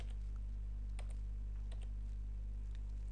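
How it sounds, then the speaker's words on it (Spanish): Typing on a computer keyboard while entering a nickname command in a chat program, heard as a few faint, scattered clicks over a steady low electrical hum, with no voices. "lo que voy a hacer ahora es pues precisamente cambiarme mi nick, tecleando lo que os he indicado antes"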